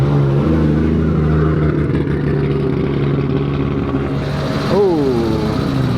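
An Audi RS7 engine at a car meet holds a steady, rumbling drone, with a brief rising sweep near the end as the car moves, and people talk over it.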